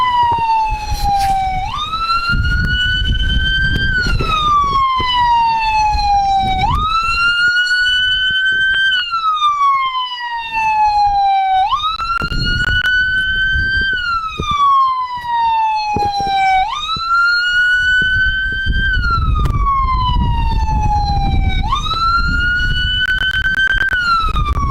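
Wailing police car siren recorded at a cycling race, loud and close, rising and falling in long repeating sweeps of about five seconds each, with faint background noise underneath.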